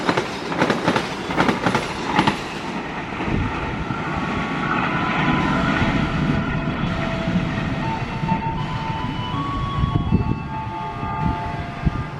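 Argo Bromo Anggrek passenger train running through Klari station, a loud, steady rush of clattering wheels and rolling rail noise that sustains throughout, with faint squeals and no voices.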